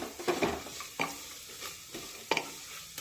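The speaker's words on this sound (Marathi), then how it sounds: "परतून घेऊया।" Grated fresh coconut is sautéed over a low flame in a pan for sweet coconut rice. A spoon scrapes and stirs in a few distinct strokes over a soft, steady sizzle, close by, with no talking.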